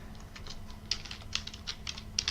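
Rapid, uneven keystrokes on a computer keyboard, quiet and close, clattering in short bursts over a low steady hum, while setting up Arch Linux in a virtual machine.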